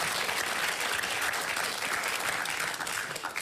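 Studio audience at a televised Australian panel discussion show breaks into sustained applause, dense and steady for several seconds with a slight fade toward the end.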